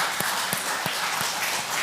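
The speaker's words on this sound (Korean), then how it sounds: "우리 이기숙 권사님 박수 한번 보내주세요" A church congregation applauds an elderly deaconess over ninety. The clapping is steady and moderate, with a few sharper individual claps standing out.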